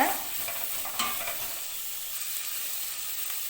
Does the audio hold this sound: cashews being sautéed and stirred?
yes